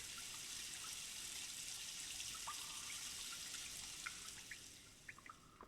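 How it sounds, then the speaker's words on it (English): Water drains out in Myst with a soft, steady rushing hiss, scattered small drips and trickles picking up toward the end, faint and with no one talking. "we want to head right here and let out all this water."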